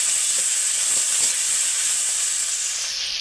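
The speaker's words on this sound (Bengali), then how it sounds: "পেঁয়াজ আর টমেটো কেটে রেখেছি দিয়ে দেবো, দিয়ে এগুলো একটু হালকা করে ভেজে নেব" Onion and tomato fry in hot oil over tempering spices, giving a steady, bright sizzle that holds at even loudness throughout, with a few soft stirring touches early on.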